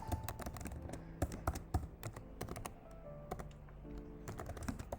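Fast, irregular clatter of keys as C code is typed on a computer keyboard, close and fairly quiet, with steady keystrokes running the whole time and no talking.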